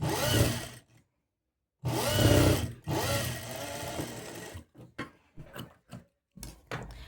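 A sewing machine runs in several bursts while stitching a blouse back-neck design with a two-inch strip, long runs first, then short start-stop spurts separated by silent pauses.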